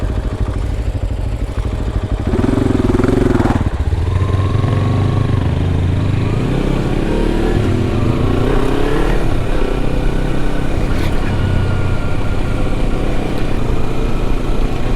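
A Kawasaki Versys 300 motorcycle ridden off road, its engine loud and close, revving up and holding a steady drone with shifting pitch over rough ground, no speech.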